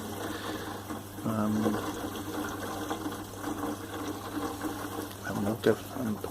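Cold wort flows out of a Grainfather brewing system during brewing, a steady gurgling trickle of liquid over a low, constant hum.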